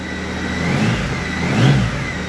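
An engine with freshly fitted spark plugs revs up twice, rising and falling over a running idle, loud and close with no talking.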